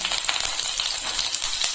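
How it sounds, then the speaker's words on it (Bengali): Chopped garlic frying in oil left over from frying chicken pieces for a home-style chilli chicken, a steady bright sizzle with small crackling pops, close and continuous, no voices. "মাংস ভাজার তেলের মধ্যে আমি দিয়ে দিচ্ছি রসুন কুচি"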